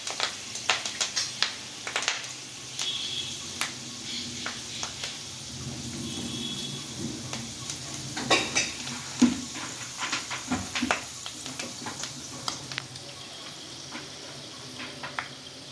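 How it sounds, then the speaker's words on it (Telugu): Fresh curry leaves crackle and sizzle in hot oil while making a drumstick (munakkaaya) pickle, a steady fizzing with scattered sharp pops close up, carrying on throughout with no talking. "నూనె వేడిగా ఉంది కాబట్టి ఇప్పుడు వేసేయండి కరివేపాకు"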